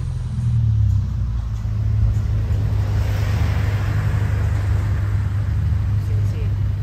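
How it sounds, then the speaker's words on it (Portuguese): A Volkswagen Jetta TSI fitted with a big aftermarket intake and Stage 3 tune, its engine running with a steady low rumble close by throughout. "Vou ligar o carro e dar pra ver melhor."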